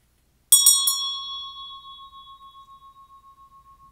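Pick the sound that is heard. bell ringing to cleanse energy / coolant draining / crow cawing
bell ringing to cleanse energy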